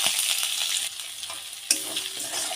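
Garlic paste with whole dried red chillies and cumin seeds sizzling in hot oil, a bright close crackling fry that drops briefly, then flares again as the paste is stirred. No voices.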